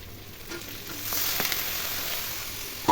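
Egg sizzling and frying in a pan while being stirred before cabbage is added, a steady bright hiss with a few scraping stirs and a clank near the end.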